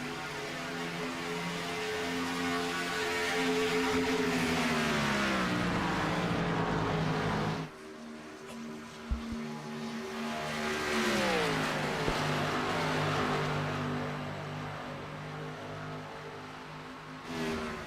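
Xfinity stock cars race at Auto Club Speedway in a racing video game, engines droning loudly and sweeping in pitch as cars pass, with a sudden dip before the roar returns.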